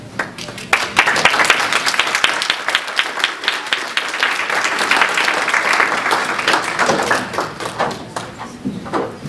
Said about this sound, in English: give him another hand clap